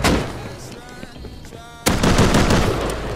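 Gunfire in the multiplayer survival game Rust during a raid, a few loud close shots at the start and then a dense burst of rapid automatic fire, with voices briefly heard between.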